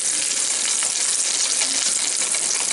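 Chorizo and scrambled eggs fry in a pan while being stirred and broken up, a loud steady sizzle with scraping and crackle running continuously up close.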